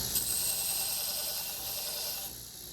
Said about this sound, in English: So now we're going to take our grinder and give this an initial shaping so that we can work with that.